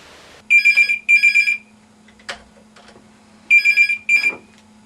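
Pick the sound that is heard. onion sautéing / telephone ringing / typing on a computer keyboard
telephone ringing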